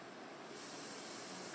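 Water rushes into a hose from a freshly opened valve on a homestead supply line running to a fallout shelter: a sudden steady hiss that starts a moment in and keeps flowing, fairly faint, with no talking.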